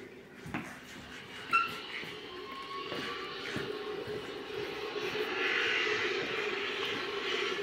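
An airplane drones steadily in the distance, the engine noise swelling slightly toward the end, with a couple of faint knocks early on.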